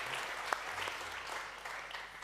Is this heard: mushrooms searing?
no